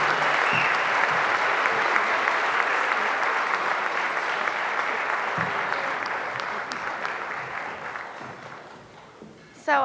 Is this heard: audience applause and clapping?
yes